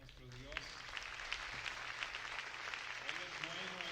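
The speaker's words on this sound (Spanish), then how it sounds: "denle un fuerte, fuerte, fuerte aplauso a nuestro Dios." Faint, fairly regular clapping from a church congregation, sharp hand strikes spaced evenly under a voice singing or speaking through the stretch.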